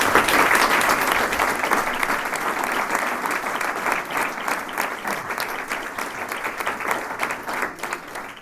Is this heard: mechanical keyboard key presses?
no